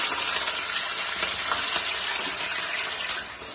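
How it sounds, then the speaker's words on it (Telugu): Whole cardamom pods and cloves fry in hot oil, giving a steady, dense, close-up sizzle with a faint crackle that holds evenly throughout, with no voices. "యాలక్కాయలు, లవంగాలు వేసుకోవాలి. ఆయిల్ వేడెక్కుతాను. ఒకసారి అలా వేగుతున్నాయి."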